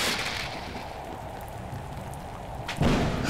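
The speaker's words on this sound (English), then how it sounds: "It's still getting hit by lightning." A Roblox thunderstorm disaster rumbles with steady rain-like hiss throughout, then a sharp, loud lightning crack hits near the end.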